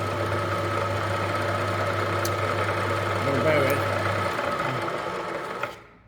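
A milling machine runs steadily while cutting a custom triple tree yoke for a Triumph motorcycle, holding a constant mechanical drone with a low hum that drops out partway through before the machine winds down at the end.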